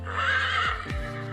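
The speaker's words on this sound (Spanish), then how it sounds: "Es del caballo." A horse whinnies loudly and close, a high wavering neigh that drops off near the end with faint low snorting beneath, heard alone without talk.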